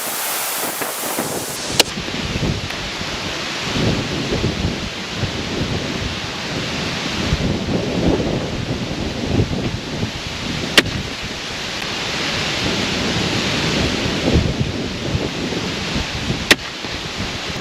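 Strong wind gusting across an outdoor crossbow range, a loud continuous roar and buffeting against the microphone that swells and eases, with a couple of sharp clicks.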